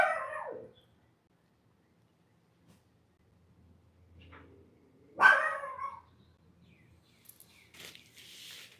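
Dogs barking outdoors at night, a far, faint burst at the start, then a louder, nearer cluster of barks near the middle, followed by scattered fainter yelps and calls.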